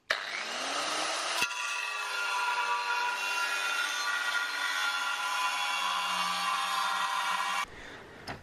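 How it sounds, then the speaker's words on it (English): An angle grinder cuts steel strip for a homemade 36-1 trigger wheel on a quad bike, spinning up quickly and then grinding with a loud, steady high whine before cutting off. "So I'll get the angle grinder and I'll cut down this line."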